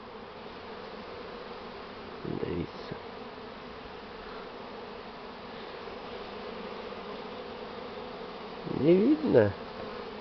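A swarm of bees buzzes in a steady, dense drone close by, with louder surges as individual bees pass near, while a person speaks briefly.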